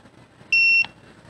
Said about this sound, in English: So we press and hold the set until it beeps.